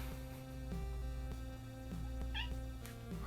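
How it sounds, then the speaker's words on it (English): A cat meows several times in the background of a movie commentary recording, faint to moderate calls rising and falling over a steady low hum. "it wouldn't be a, YouTube video without a cat in the background also"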